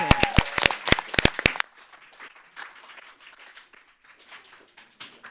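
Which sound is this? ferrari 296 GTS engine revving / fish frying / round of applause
round of applause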